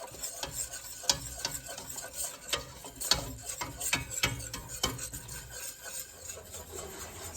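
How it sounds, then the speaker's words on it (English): A spoon scrapes and clicks repeatedly against a pot of roux for vegan gumbo, faint irregular strokes over a soft background sizzle, with no voices. "while I am stirring the roux"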